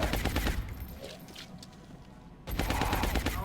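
Rapid automatic gunfire bursts in the turn-based strategy game XCOM: Enemy Within (Long War mod), a loud stuttering volley that fades briefly, then a second dense burst resumes.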